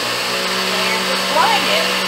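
A NutriBullet blender runs steadily while grinding oats into flour, producing a constant loud whirring motor drone with a high-pitched whine that stays even throughout.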